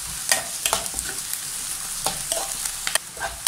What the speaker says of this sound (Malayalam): ഇനി ഇത് നല്ലോണം നമുക്ക് വാട്ടിയെടുക്കണം